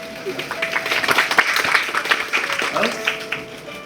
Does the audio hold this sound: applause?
yes